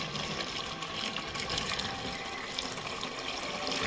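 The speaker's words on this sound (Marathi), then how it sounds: "तर ओतून दाखवतील बघा माडी तर तुम्हाला समजेल की एकदम कशी आहे ती माडी" Fresh palm toddy pours from a Bisleri bottle in a constant liquid rush and splash, steady and fairly close, with no pauses.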